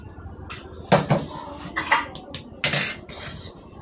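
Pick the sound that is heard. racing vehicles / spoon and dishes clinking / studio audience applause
spoon and dishes clinking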